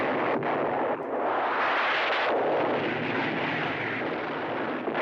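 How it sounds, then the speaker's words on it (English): A sustained, rumbling explosion from the 1974 disaster film The Towering Inferno, a dense roar that rolls on without a break for several seconds, loud and close with no voices over it. "It's an explosion."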